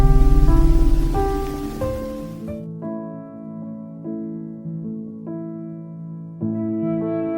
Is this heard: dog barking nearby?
no